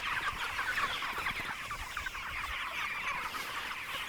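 Chickens cluck and murmur continuously in a pastured poultry pen outdoors, a busy, moderately near flock chatter with no talk over it.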